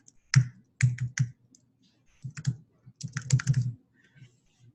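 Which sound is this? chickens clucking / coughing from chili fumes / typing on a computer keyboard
typing on a computer keyboard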